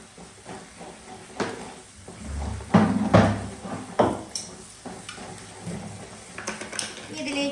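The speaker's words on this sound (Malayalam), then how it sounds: "എന്നിട്ട് നന്നായിട്ടൊന്ന് മിക്സ് ചെയ്തെടുക്കാം." Curry with curry leaves, chilli powder, turmeric and salt being stirred in a pan, with irregular clattering knocks and scrapes of utensil against metal, close by and uneven in rhythm.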